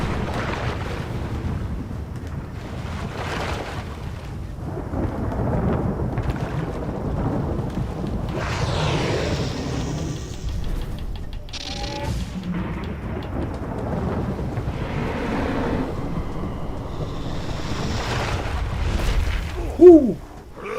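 A thunderstorm spell effect in the Smite video game: sustained rumbling thunder and rain-like wash for about twenty seconds, fairly loud and steady with swelling surges and a sharp burst near the end, no speech over it.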